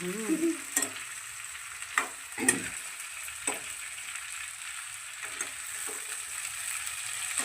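A tempering for okra curry sizzles in a pan, a soft steady hiss broken by several sharp clicks and clinks of a spoon against the pan, heard without any talking.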